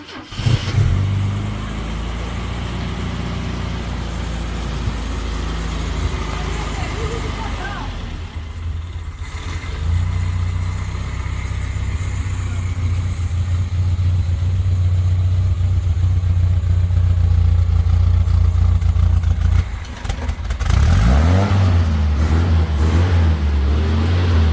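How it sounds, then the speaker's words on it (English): An Opel GT Sport engine, freshly cleaned carburetor after decades of sitting, cranks, catches and settles into a loud, close, steady idle with a brief cutout and restart near the end, voices talking over it. "The car started up fine."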